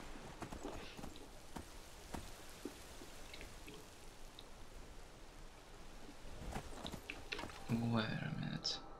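Horse hooves clip-clop in the video game Skyrim, a light, irregular patter of quiet steps over a faint ambient wash, with a louder thud near the end.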